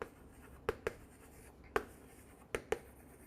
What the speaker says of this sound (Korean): 그럼 이제 수익 쪽은 제가 색깔을 조금 달리 써볼게요.